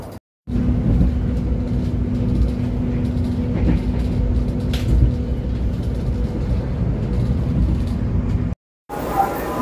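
An Indonesian passenger train rolls between Jakarta and Yogyakarta, heard from inside the carriage as a steady low rumble with a sustained hum, broken briefly by a cut near the end.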